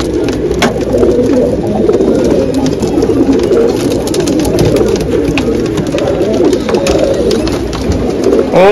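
Many pigeons coo continuously in a low, throaty chorus, loud and close, with scattered flutters and small noises mixed in, at a pigeon sale.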